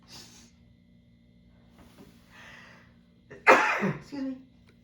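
A sudden loud sneeze bursts out after a few quiet seconds of faint talk, followed by a brief sniffly trailing sound.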